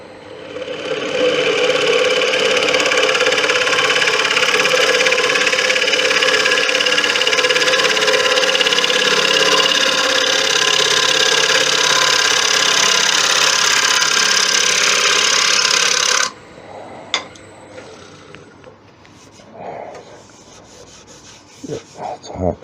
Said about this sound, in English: Now, hit that with the carbide to get a decent finish on that resin